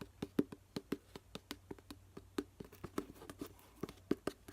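Basic paper board gift box with a brown lid, white base and twine bow, handled up close: a steady series of soft, crisp taps and light scrapes at an uneven rhythm, quiet and intimate with no voice.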